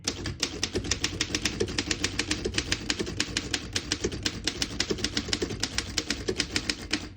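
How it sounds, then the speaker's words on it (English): A 1917 Underwood No.5 portable typewriter being typed on, with a steady, fast run of crisp mechanical key strikes clacking close by for several seconds and no voices. "I'll type a sentence on the next line."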